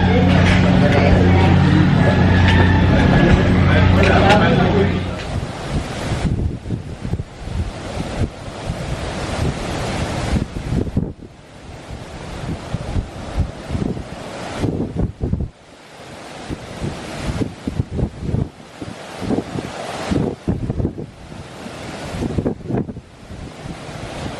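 Ocean waves break on Bulabog Beach on the east coast of Boracay, with a loud, continuous surf wash and gusty wind buffeting the microphone. A brief tonal sound is heard near the start.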